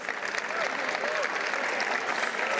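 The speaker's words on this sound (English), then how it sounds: "And now please give a round of applause for these award winners." An audience at a university athletics awards show applauds award winners, a steady wash of clapping throughout with faint voices mixed in.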